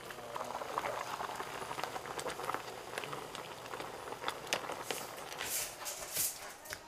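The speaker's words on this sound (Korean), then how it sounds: "싱싱한 꽃게를 넣은 꽃게탕. 갖은 양념에 향긋한 미나리까지 넣고" Spicy Korean blue crab stew with minari bubbles in a pot, a close and steady crackling simmer with scattered popping bursts throughout.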